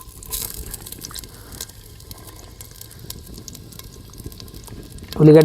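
Two finely chopped onions frying in about half a litre of oil for a Karnataka-style bisi bele bath, a close, steady sizzle with stirring scrapes, swelling into a loud hiss at the very end.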